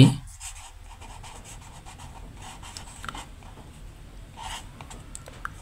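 A pen scratches and rubs across paper while a Class 5 math solution is written out, making soft, intermittent scraping strokes at close range against a quiet background.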